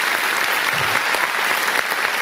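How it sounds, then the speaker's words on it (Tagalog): Loud, dense applause from a large audience at a motivational leadership talk, a steady wash of clapping that fills the whole stretch with no voices over it. "Malakas na palakpak."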